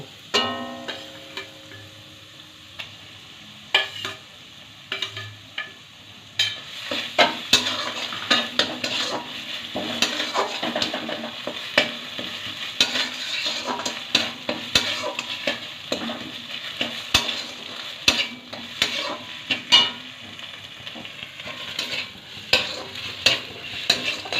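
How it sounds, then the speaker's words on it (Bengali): Okra cooks in a frying pan with mustard and poppy seed paste and a splash of water while a spoon stirs it. Soft sizzling runs under repeated scraping and clinking of metal on the pan, close and steady, with no voices. "জল দিয়ে ভালোভাবে নেড়ে চেড়ে নেব।"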